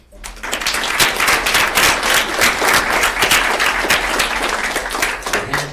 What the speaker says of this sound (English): So our governing board also deserves a big round of applause.